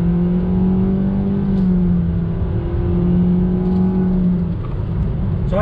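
A 2020 Nissan Sentra SV, front-wheel drive, pulls on throttle through a right-hand turn, its engine note holding a steady, near drone that rises and then eases off, heard alone without talk.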